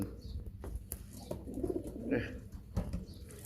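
Imamdeen and teddy breeder pigeons coo in a loft, soft low coos near and far, with scattered clicks and a brief flutter of wings around them.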